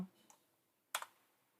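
A few faint, sparse clicks of keys being typed on a computer keyboard, a quick tap followed by a slightly louder double click, in an otherwise quiet room.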